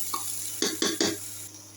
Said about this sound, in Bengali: পেঁয়াজ দিয়ে এখানে চাল দিয়ে দিব। এখন নাড়াচাড়া করে ভালো করে একটু কনকনা আওয়াজ হবে যখন